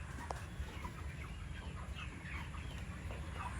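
Broiler chickens about 35 days old on a poultry farm in Bihar, scattered soft clucks and calls from the flock over a steady low hum, quiet and distant, no talking.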